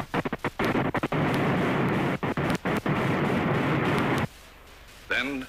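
V-2 rocket number 59's preliminary-stage firing roars as a loud, dense blast of broadband noise broken by brief dropouts, then cuts to near quiet with a faint trailing sound.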